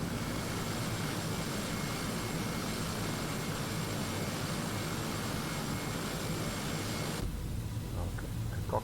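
Turboprop engines of a Fokker 50 in X-Plane 11 drone steadily and loudly throughout, a broad continuous roar with a faint steady whine, cutting off abruptly near the end to a quieter hum.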